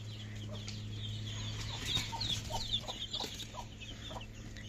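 Young chicks, seven days old, on a poultry farm cheep in short high chirps over a steady low farm hum, with a few clucking calls mixed in, fairly close and continuous.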